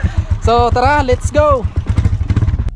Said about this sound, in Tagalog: At angkas lang ako sa kanya, sa motor niya, hindi sa kanya.